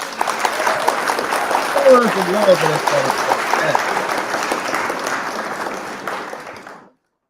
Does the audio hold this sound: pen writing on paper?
no